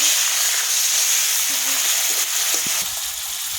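Onion paste fries in hot oil with dried red chilli and nigella seeds, giving a loud, continuous hissing sizzle with occasional stirring clicks and faint talk underneath.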